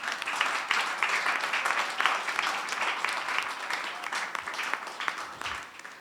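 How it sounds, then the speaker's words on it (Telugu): A church congregation claps loudly and continuously, a dense patter of many hands holding strong before easing off near the end, with no voices on top. "గట్టిగా చప్పట్లు కొడదాం."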